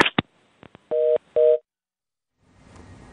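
Telephone tones during a failed call connection: a few short beeps and clicks, then two steady sustained tone bursts, followed by silence and faint line hiss at the end.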